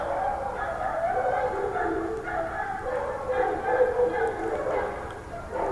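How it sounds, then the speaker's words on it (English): Dogs barking, yelping and snarling in a scuffle outside an apartment, a continuous agitated tangle of noise at a moderate distance, steady in level throughout with no words spoken. "I'm pretty sure there was just a dog fight outside of my apartment"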